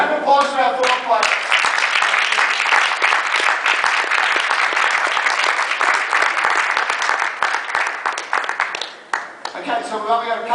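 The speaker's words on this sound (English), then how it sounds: "Round of applause for our fourth player." Audience at a doubles tennis demonstration applauding a player: a steady burst of dense clapping for about ten seconds, loud and close, with brief voices at the start and end.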